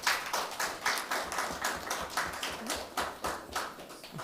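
An audience at a press conference applauds steadily, a dense run of rhythmic claps sounding close and even throughout, with no talking over it.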